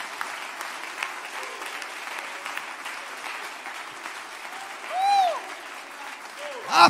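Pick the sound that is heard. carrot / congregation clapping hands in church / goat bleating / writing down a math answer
congregation clapping hands in church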